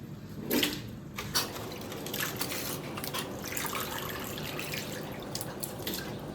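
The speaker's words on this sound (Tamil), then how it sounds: "இப்போ நாம் இறைச்சி, ஈரல் எல்லாத்தையும் கழுவி எடுக்க போகிறோம்." Meat and liver being washed under running water, with a steady stream splashing and dripping into a vessel, fairly close and continuous with a few sharper splashes near the start.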